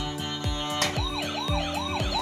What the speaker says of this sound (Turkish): Işıklı ambulans. Ama onu çalıştırman lazım yoksa gitmez.